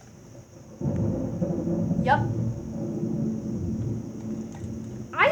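A thunderclap booms during an intense thunderstorm with heavy lightning: a loud, sustained low rumble rolls on for several seconds, with a brief spoken word over it.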